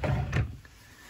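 A single short wooden scrape and thud of a storage drawer sliding in a small hotel room, close and fairly quiet, fading into room silence.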